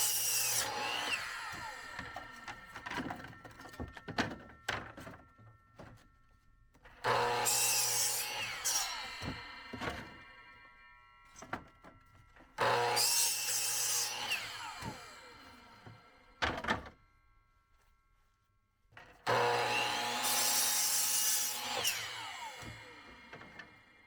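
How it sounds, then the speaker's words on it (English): Wood scraps left over from building garden compost bins are sawn into firewood in four strong, steady bursts of rasping cutting, each about four to six seconds long, separated by short quiet pauses. "I'm going to go ahead and cut my scraps up for firewood."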